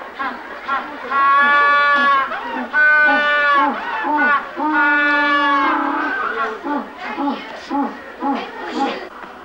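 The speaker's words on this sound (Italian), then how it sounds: "In natura, il verso del pinguino di Jackass è una perfetta imitazione del raglio dell'asino." Jackass penguins giving loud, braying calls like a donkey's, several harsh honking phrases in a row over about ten seconds, with shorter broken calls toward the end.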